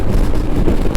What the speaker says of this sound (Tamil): காற்று வேறு பயங்கரமாக அடிக்குதுங்க